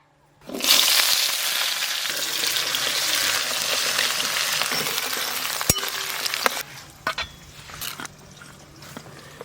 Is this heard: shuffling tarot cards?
no